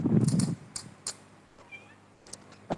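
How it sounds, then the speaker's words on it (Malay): A domestic cat meows indoors, first with loud, close meows, then with a few softer, shorter calls. "Sibuklah kucing cikgu ni pun."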